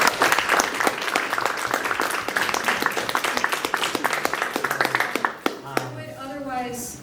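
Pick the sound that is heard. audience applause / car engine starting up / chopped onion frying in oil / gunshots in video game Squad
audience applause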